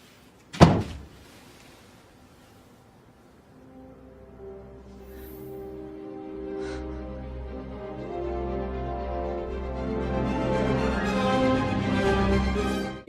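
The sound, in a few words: door being shut, film scene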